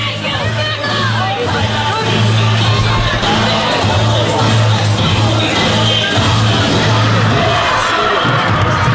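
A lively wrestling crowd in a school gymnasium in East Haven roars with continuous cheering, yelling and whoops, the loud babble of many voices echoing steadily throughout.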